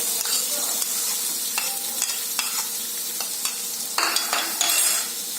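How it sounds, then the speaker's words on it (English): Finely chopped onion fries in hot oil with a steady close sizzle, broken by intermittent scraping and stirring strokes of a spoon in the pan. "Now we'll add 1 finely chopped onion."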